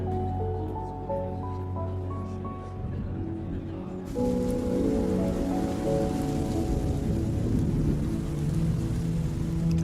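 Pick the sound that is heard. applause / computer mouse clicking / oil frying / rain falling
rain falling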